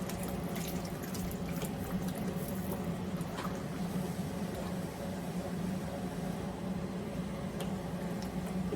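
Meat stock poured into a simmering chicken stew, a steady close liquid pour and bubbling that runs unbroken for the whole stretch with no talk.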